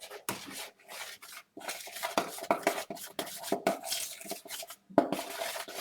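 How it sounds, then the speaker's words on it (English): A spoon or whisk scrapes and clinks around a bowl, mixing cocoa powder into flour in irregular, close strokes with brief pauses between bursts. "I'll add about, say, about 2 tablespoons of cocoa to the flour. Now just mix that together."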